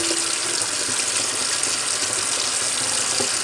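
Tap water runs steadily into a sink while sea moss is rinsed, a close, continuous splashing gush with no talk.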